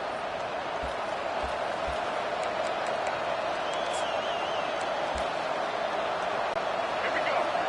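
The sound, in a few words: stadium crowd roaring loudly in a football video game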